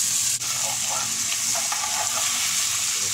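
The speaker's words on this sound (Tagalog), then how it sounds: "Mikos lang natin para maluto yung kamatis" Bitter gourd and tomato sautéing in a pan, with a loud continuous sizzle of frying oil and the scrape and clatter of a utensil stirring the vegetables throughout.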